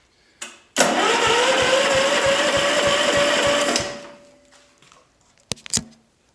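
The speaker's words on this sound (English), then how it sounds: "I'll start up the crawler and give you a quick demonstration" A crawler machine's small engine, started by hand and choked, roars to life loud and close, revving steadily for about three seconds before cutting out, with a few knocks and clatters afterward.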